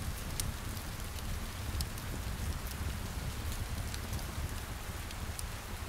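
Steady rain falls on the glass of a cabin window beside a lake, a dense, even patter with scattered sharper drop ticks, constant and close, with no voices.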